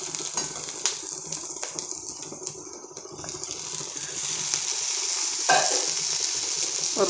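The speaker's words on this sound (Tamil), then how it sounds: "பாருங்கள், வெங்காயம் கொஞ்சம் நல்லா வதங்கிடுச்சு. இப்போ நம்ம தக்காளி போட்டுடலாம்." Onions and tomato frying in a pan, a continuous close sizzle with occasional stirring scrapes and clinks, growing slightly louder toward the end, with no talk.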